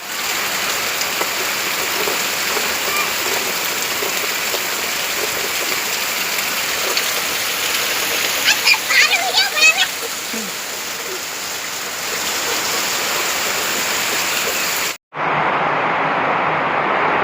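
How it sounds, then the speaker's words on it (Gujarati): Steady, dense rain noise from a heavy evening downpour in Kavant, Chhota Udepur district, Gujarat, pouring down without a break, with a brief abrupt cut near the end before the downpour resumes just as loud. "આ સમગ્ર પટ્ટામાં ખાસ કરીને કવાંટ તાલુકામાં વરસાદ દ્રશ્ય આપણે જોઈએ"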